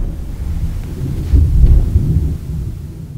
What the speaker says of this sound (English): Do you all hear the thunder?